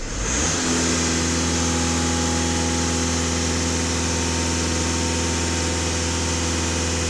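A VW Passat B7 2.0 TDI diesel engine starts up and settles into a steady idle, a loud, even rumble with a constant low drone that continues for several seconds with no talking.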